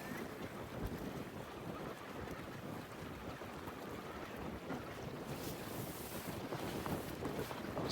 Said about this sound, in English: it's very blustery out here, though